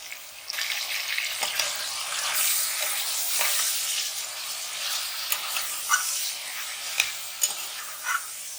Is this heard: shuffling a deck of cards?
no